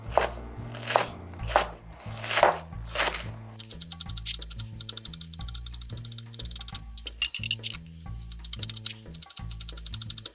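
A knife finely chops chives rapidly on a board, a steady run of crisp taps over a low tonal background, with a few louder strokes at the start.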